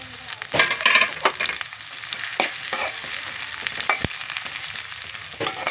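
Green chillies and curry leaves frying in hot oil for mutton curry, with crackling sizzle, sharp spluttering pops and stirring clatter, close and fairly loud, then settling to a steadier fry.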